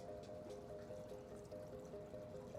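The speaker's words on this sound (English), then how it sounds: "Put some fresh drinking water in there" Fresh drinking water poured into a box turtle's water dish, a faint, continuous trickle and splash heard from close by with no talking.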